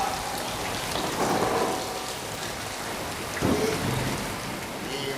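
Rain pours steadily during an open-air village stage play, with two low rumbles of thunder rolling in, one early and one about two-thirds through, beneath a constant hiss of falling drops.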